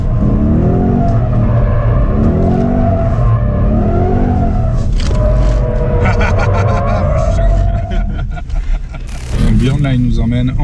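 A car drives around a high-speed oval tire test track, its engine and road roar loud and continuous from inside the cabin, with a brief burst of harsher noise near the end.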